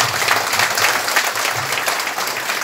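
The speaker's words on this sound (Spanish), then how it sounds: "así los recibimos con ese cálido aplauso también" Warm applause from an audience at the inauguration of a new municipal police station, a dense, loud, continuous clapping close by that fills the whole moment without talk.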